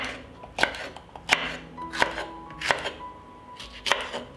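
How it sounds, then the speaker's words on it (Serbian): A knife chopping a hot pepper on a board, about six sharp, separate cuts spaced roughly every two-thirds of a second, close and clear against a quiet kitchen. "Iseckat ću i jednu ljutu papriku."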